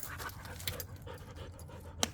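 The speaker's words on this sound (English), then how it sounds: "once again, there's that stupid puppy" A puppy pants steadily up close with a faint whimper, a short yip standing out near the end, in an otherwise quiet room.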